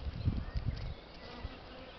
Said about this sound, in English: There's a bee with massive load of pollen attached to it